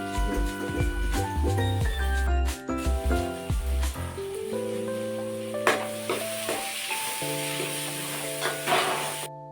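Curry leaves dropped into hot oil with spices for Gujarati rasiya rice, a hissing sizzle that swells in the second half beneath loud melodic music.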